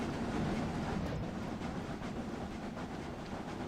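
A simulated locomotive on the Brockenbahn mountain railway in Train Simulator Classic rumbles along with a steady low roar and faint rail clatter, continuous and close, with no voices.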